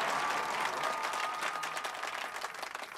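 Crowd clapping in a scene from the Telugu comedy film Venky Anna, a dense burst of applause from many hands that thins slightly toward the end, close and moderately loud with no voices over it.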